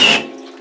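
Water bursting from a freshly drilled hole in a well-Rite 86-gallon (WR-260) well pressure tank, a loud short hissing spray that cuts off quickly and leaves a faint steady tone.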